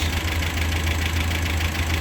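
An Alfa Romeo Giulietta engine idles steadily after an exhaust manifold gap repair, a low, even rumble with a faint rhythmic knock, no voices.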